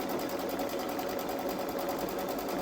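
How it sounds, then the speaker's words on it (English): A Babylock Solaris embroidery machine stitches a gnome design, giving a fast, steady mechanical whir with an even rapid needle rhythm that runs continuously and close. "the next one after that is all of the stitching for the gnome and the Happy St. Patrick's"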